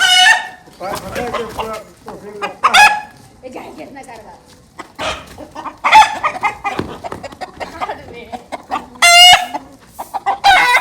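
A chicken clucks and squawks in repeated agitated bursts, loud and close, while it is chased; people talk and shout over and between the calls.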